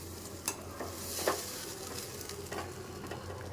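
Food frying in a pan, with ginger rubbed in beforehand, gives a steady close sizzle, broken by a few short scrapes and stirring knocks. No one speaks.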